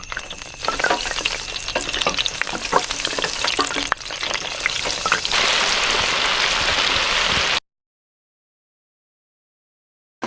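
Fish sizzle and crackle steadily in hot oil in an outdoor deep fryer, a loud, dense frying hiss that swells into a brighter, rain-like spatter before cutting off abruptly.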